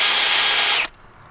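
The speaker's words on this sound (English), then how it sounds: "this is the greens harvester from Farmer's Friend. So this thing is not cheap at all, and you need the drill to run it." A cordless drill drives a Farmer's Friend greens harvester with a loud, steady high whine that cuts off abruptly near the end, leaving quiet room tone.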